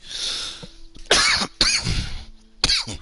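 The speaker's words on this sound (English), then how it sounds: "Coughing in your ear." Several sharp, close coughs in quick succession, separated by brief pauses, with a rough throat-clearing quality.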